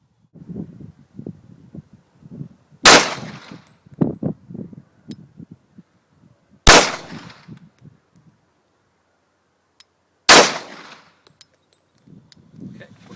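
Three loud handgun shots ring out on a shooting range, a few seconds apart, each a sharp close crack, with quiet talk in between.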